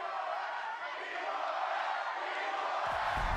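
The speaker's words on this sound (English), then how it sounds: "Exultations and cheers." A crowd roars and cheers steadily, a sustained wash of voices at a Valorant Champions 2023 esports match between LOUD and PRX, with a low thump near the end.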